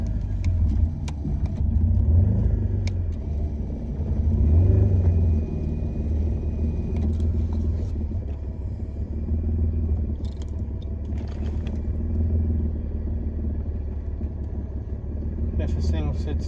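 The engine of a Ranger utility vehicle runs steadily at a farm burn pile, a deep, close rumble that rises slightly in a couple of swells and otherwise holds level throughout.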